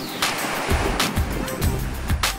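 Ocean waves at Pinedo beach in Valencia, surf washing in repeated swells with soft breaks about every half second, moderately near, with wind and some faint background sound.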